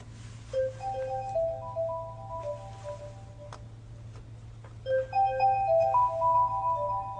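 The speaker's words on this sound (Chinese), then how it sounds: "有电话，你先接吧" Phone ringing with an incoming call, a bright repeating electronic melody of tones played twice in short phrases, clear and fairly close over a low steady hum, with no talking.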